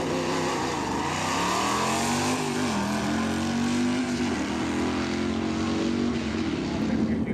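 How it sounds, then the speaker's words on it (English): A 1969 American Motors AMX drag racing car with a 390 cubic inch American Motors engine roars loud and continuous, its pitch rising and shifting as it pulls away, with no gaps in the noise. "Now on the outside lane is the Gilbert Speed Shop American Motors AMX, powered by the 390 cubic inch American Motors engine."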